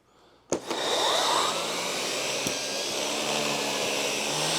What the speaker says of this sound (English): now we're going to test the upholstery tool on pet hair. We have the machine on maximum suction again.